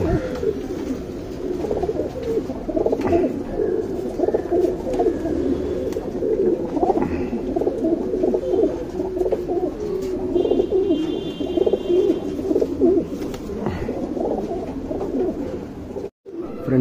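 A pair of domestic pigeons, a male and a female, coo continuously in low, throaty burbling calls, close by and fairly loud throughout, with no talk.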